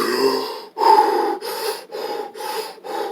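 Sharp, rapid breathing after a cold shower: about six forceful breaths close to the mic, each a raspy rush of air with brief gaps between, alone without talk.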